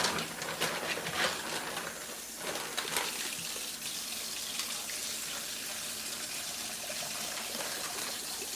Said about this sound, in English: So I'm going to just rinse this out real quick.